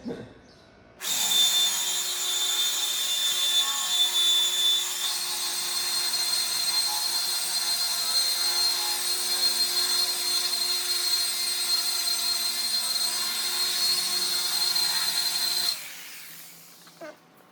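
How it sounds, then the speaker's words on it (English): An electric polisher buffs scratched paint on an Audi, running steadily for about fifteen seconds with a loud, even whine that starts and stops abruptly, close and alone with no voices. "I'm honestly just curious to see what will happen if I buff this thing and if it'll even look halfway decent."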